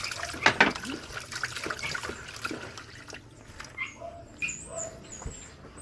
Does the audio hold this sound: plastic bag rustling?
no